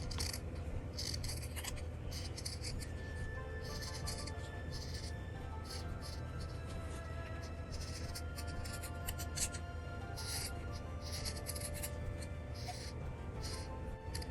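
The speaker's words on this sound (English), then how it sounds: "So go ahead and cut this around. You can go very close to it, to the sew line, not on the sew line, close to it." Scissors snipping around a sewn fabric wallet close to the stitch line, a rapid run of crisp near cutting strokes repeating steadily throughout.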